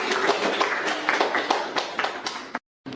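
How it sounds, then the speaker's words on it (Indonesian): A class claps in a small room during a micro-teaching lesson on public sector accounting, a steady burst of close, uneven handclaps lasting a couple of seconds before cutting off abruptly. "Ya, tepuk dulu."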